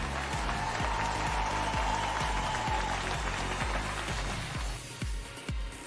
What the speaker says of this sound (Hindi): आप जहां भी हैं, इनके लिए जोरदार तालियां बजाइए।